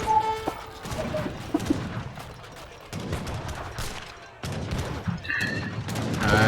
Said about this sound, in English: Yeah, that's a lot of cannons.